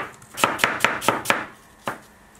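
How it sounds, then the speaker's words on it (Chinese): Thin slices are cut from a peeled apple with a knife on a board, giving five evenly spaced crisp chopping taps close up, a short pause and one final cut. "对半切开，将它斜着切片"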